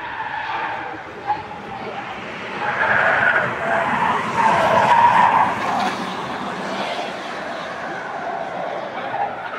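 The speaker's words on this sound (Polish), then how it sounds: "I ostatnie auto Porsche elektryczne." Electric Porsche race car on the Sopot hill climb, tires skidding and squealing through a loud, sustained pass with a rising and fading whine, crowd murmur faintly underneath.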